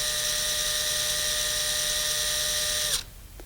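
A power drill spins its chuck in a loud, steady high-pitched whine that cuts off sharply near the end, leaving quiet background.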